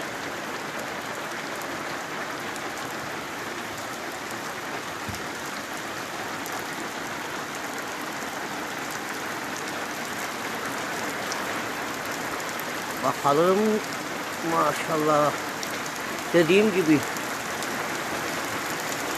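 Steady heavy rain hisses in Güzelyurt, Cyprus, a constant wash of falling water; near the end someone speaks briefly over the downpour in a few short bursts.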